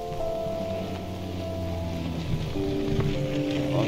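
Rain in the jungle survival game Green Hell falls as a steady hiss under sustained music tones, with no talking.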